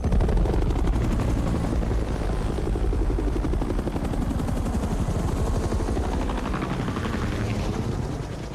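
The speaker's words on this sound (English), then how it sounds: "we're shooting telephoto shots of the helicopters flying" Real helicopters flying overhead for a film shoot, a loud continuous rotor thump and engine roar throughout, steady and close with a slight fade at the end.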